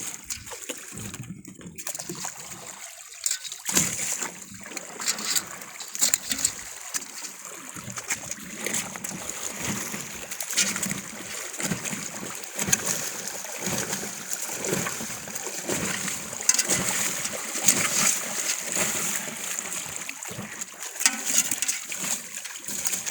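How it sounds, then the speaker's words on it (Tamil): Water splashing and trickling as it is drained off prawns, a steady wet spattering throughout with a few louder splashes, close by and with no talk over it. "தண்ணி இருக்குண்ணா எடுத்து விட்டுருங்க."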